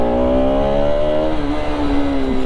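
A Bajaj Pulsar RS 200 BS3 motorcycle engine revs loudly and close, a strong steady harmonic drone whose pitch rises slightly and then dips, running continuously throughout.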